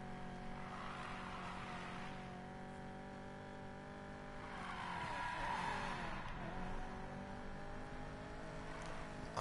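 A Ford Mustang driven as a drift car in Need for Speed Payback, its engine holding a steady harmonic drone that dips and swells around the middle as the revs shift, with a voice talking faintly over it.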